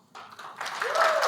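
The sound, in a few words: audience applause welcoming speakers to the stage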